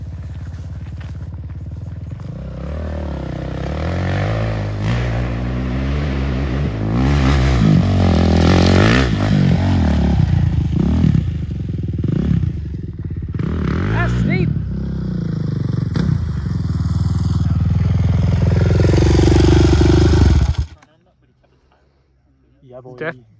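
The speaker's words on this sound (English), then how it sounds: "Right there at the Kawasaki bike." A Kawasaki dirt bike engine strains loudly while climbing a steep power-line hill on a trail ride, revving and surging continuously for about twenty seconds with people talking over it, then cutting away to near silence.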